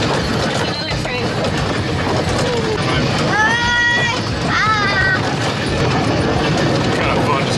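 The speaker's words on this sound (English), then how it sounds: "There's another train." A small ride train circles at ICON Park in Orlando, a steady rumble with clattering wheels and a few squealing metallic whistles, moderately loud beneath people talking nearby.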